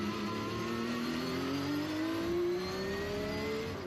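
Porsche club race cars accelerating hard around Circuit of the Americas, a loud continuous engine roar with a rising pitch as one car pulls away, sustained and close throughout.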